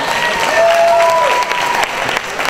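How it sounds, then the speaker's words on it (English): Steady crowd applause at an evening outdoor nature-center concert event, a dense, even patter of many hands clapping close and loud throughout, with a few faint whistles or tones riding above it. "We give them a round of applause."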